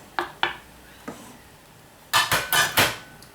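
Paprika being stirred into a pot of jollof rice sauce over a low fire, giving a few soft scrapes followed by a cluster of four louder, close clattering strokes of a spoon against the pot.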